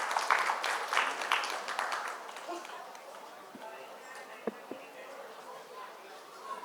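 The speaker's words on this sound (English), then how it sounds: "Round of applause for them in their absence." A round of applause from the audience at a literature festival book prize awards ceremony, loud dense clapping at first that thins and fades away into a few scattered claps.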